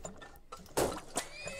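A horse in the video game Turmoil gives a short, bright neigh amid soft clip-clop and mechanical clicks, fairly faint and with no talk over it.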